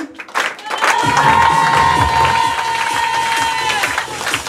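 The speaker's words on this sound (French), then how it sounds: "je veux plus d'applaudissements" Wedding guests at a reception in Normandy clap and cheer loudly together, a dense sustained round of applause with shouts, under a faint musical tone and a few voices.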